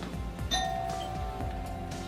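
A house doorbell rings indoors with a clear ding-dong chime over a low hum of background noise, during a party gathering.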